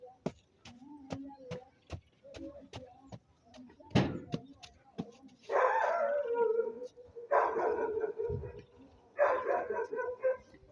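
A dog barks repeatedly in sharp, spaced bursts, fairly close, while a person talks over and between the barks.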